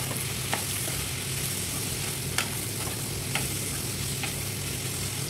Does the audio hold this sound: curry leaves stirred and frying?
yes